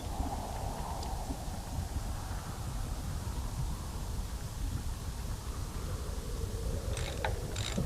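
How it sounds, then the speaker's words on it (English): A wrench clanks and ratchets while fixing a giant fire extinguisher in the PC adventure game Torin's Passage, with mechanical clicks over a steady game background hum and a few sharper knocks near the end. "I'm going to use the wrench to fix it here."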